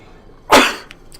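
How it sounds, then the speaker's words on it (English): A single loud sneeze bursts out close by, then fades quickly into a faint breath, with game-session quiet around it. "Excuse me, second sneeze."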